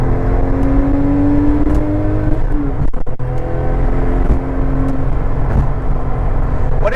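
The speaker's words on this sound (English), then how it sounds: "Then the turbo kicks in." 2007 Porsche 997 Turbo engine revving loud and close as the turbo kicks in above about 4,300 rpm, a sustained rising drone with a brief dip midway and continuous road and wind roar underneath.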